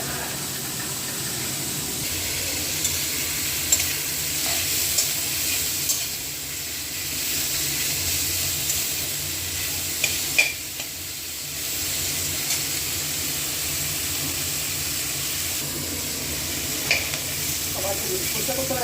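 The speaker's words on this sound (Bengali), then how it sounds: "পেঁয়াজ ভাজা স্টার্ট হয়ে গেছে, বেরেস্তা করা হচ্ছে।" Onions fry in a pan until browned and crisp, with a continuous close hiss and crackle and occasional light clinks of stirring throughout.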